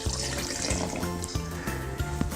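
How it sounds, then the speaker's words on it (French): Lukewarm water running into a sourdough starter mixture, about 100 g poured as a steady close liquid stream with gurgling, no talk. "On va reverser 100 g d'eau tiède dans mes 100 g de préparation."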